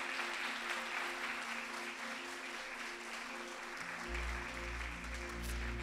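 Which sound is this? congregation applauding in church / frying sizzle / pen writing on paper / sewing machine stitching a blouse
congregation applauding in church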